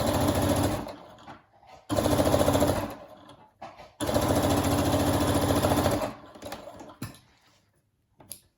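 A sewing machine topstitches a fabric mask in three loud bursts of rapid, even stitching, each lasting one to two seconds. Short pauses between the bursts hold quieter handling clicks.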